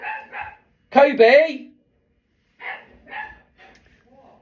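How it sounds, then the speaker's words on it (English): A dog barks in short, excited bursts, loud and close, mixed in with a person calling out a name. "Dog's going mental."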